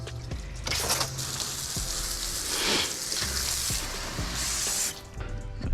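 Water mixed with coolant runs and splashes steadily down a driveway while servicing a BMW 3 Series E90-family car's cooling system, a continuous near rushing flow for several seconds with a few knocks.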